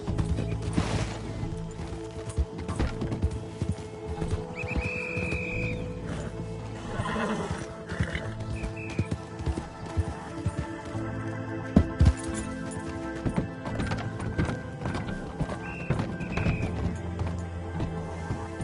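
A horse in the Red Dead Redemption 2 video game runs with busy hoofbeats and lets out neighs amid game ambience, with scattered impacts and no clear talk.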